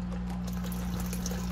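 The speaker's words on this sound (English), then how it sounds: "So it's just trickle, trickle," Water trickles steadily through a DIY bell syphon in a flood-and-drain setup, a continuous close wash of flowing liquid over a constant low pump hum.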